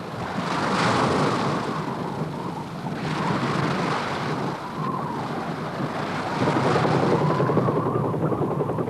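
A helicopter roars nearby over Tierra del Fuego, a continuous heavy thrum of rotor and engine noise swelling slightly in waves, with wind buffeting the microphone.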